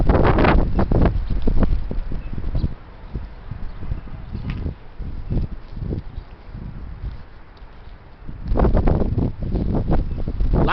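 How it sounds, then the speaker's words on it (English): Heavy wind blows steadily and loudly across the microphone in a continuous rushing roar, gusting harder at the start and end with a calmer stretch in the middle. "The heavy wind."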